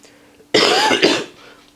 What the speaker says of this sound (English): my cough just isn't going away